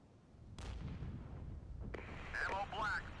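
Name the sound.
artillery shot in video game Regiments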